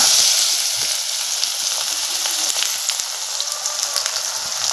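Jute leaf fritter batter frying in hot oil, a steady bright sizzle and crackle with scattered small pops, close and moderately loud, with no talking.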